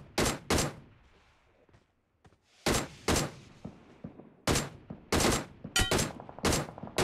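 PUBG Mobile gunfire comes in sharp, loud bursts of rapid shots separated by short quiet gaps, with several clustered volleys toward the end.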